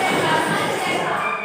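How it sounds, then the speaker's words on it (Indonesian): A classroom of students claps together for a classmate, a dense, continuous crowd of hand claps with some voices mixed in. "Oke, tepuk tangan buat Deka."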